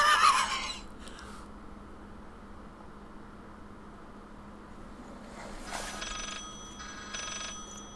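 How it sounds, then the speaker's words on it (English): A telephone rings in the horror video game Layers of Fear: a short burst of ringing at the start, then a quiet hiss, then another stretch of electronic ringing later on. "The phone again."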